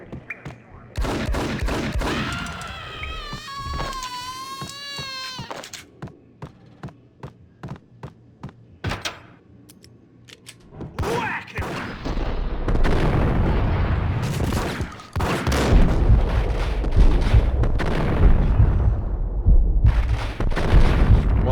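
Shotgun blasts and other gunfire in the Max Payne video game, heavy booming shots in rapid bursts with musical tones and dense chaotic action noise. Someone talks over parts of it.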